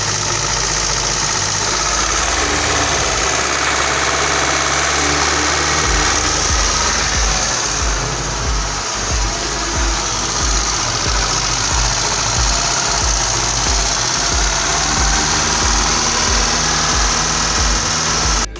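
A car engine idling close up with unsteady revs that rise and sag, a continuous loud rough hum and vibration with no talking, from a car suspected of an air leak that stalls when the throttle is blipped.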